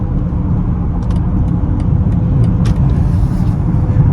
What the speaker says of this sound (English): the exhaust does sound a little bit, slightly more aggressive